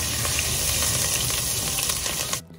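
Ginger and garlic paste sautéing in oil and butter for butter chicken, a steady loud sizzle and hiss up close that cuts off sharply near the end.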